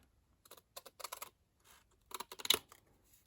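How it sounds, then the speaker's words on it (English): Long scissors cut through paper while making a card, heard as two clusters of crisp, close snips separated by a short pause. "So now we can cut this down. I'm going to get my long scissors for this."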